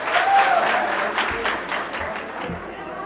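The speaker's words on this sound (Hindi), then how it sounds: "इनके लिए ज़ोरदार तालियां।" Loud applause from an audience in a university hall in Gilgit welcoming a speaker, dense clapping that starts strong and gradually thins, with a faint voice briefly underneath.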